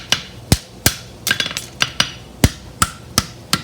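A hammer rings against a horseshoe on the anvil while the toe is bent over, about a dozen sharp metallic strikes at an uneven pace, some in quick pairs, close and fairly loud.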